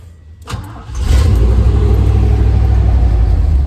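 An old 1994 Chevy truck engine cranks briefly and catches with the clutch pressed, then settles into a loud, steady, close idle rumble.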